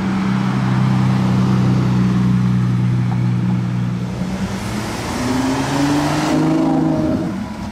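A Lamborghini Aventador in Monaco gives a loud, sustained engine drone that dips and then climbs into a rising rev, heard from a short distance with street noise around it.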